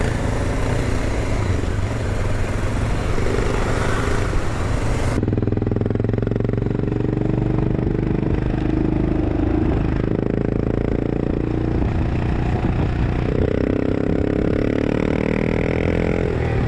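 Scooters and motorcycles fill Italian traffic with a continuous, close, dense engine drone and clatter, buzzing steadily throughout with no talk.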